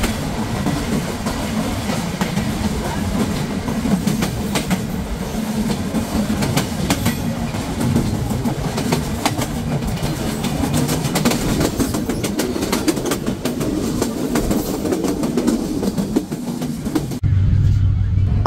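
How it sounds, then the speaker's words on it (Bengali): A passenger train runs straight through Phultala Junction railway station in Bangladesh without stopping, its rumble and clattering wheels loud and steady throughout, heard from on board. "আমাদের ট্রেনটি এই মুহূর্তে থ্রুপাস করে যাচ্ছে ফুলতলা জংশন রেলওয়ে স্টেশন।"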